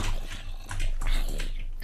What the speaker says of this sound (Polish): tu coś warczy, ale tu mhm, niech sobie warczy